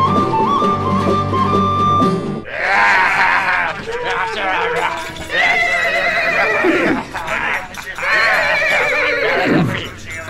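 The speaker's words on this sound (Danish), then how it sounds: "Pludselig hører Ali Baba lyden af hestehove, der kommer nærmere." Horses draw near in a Danish radio play of Ali Baba and the forty thieves, with loud, repeated whinnies and neighs over hoofbeats, all filling the scene.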